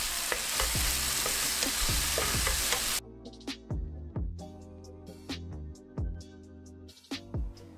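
Spices temper in hot oil for a dry potato sabzi, beginning with a loud, dense sizzle that abruptly dies down about three seconds in, followed by a series of sharp spoon scrapes and clinks against the pan, with no talk.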